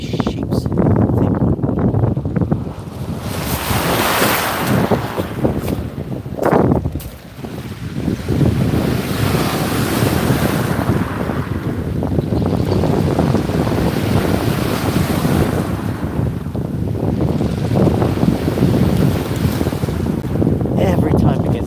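Waves from a passing Uber Boat wash onto the tidal foreshore at the river's edge, a continuous rushing surge heavy with wind buffeting the microphone, close by and loud.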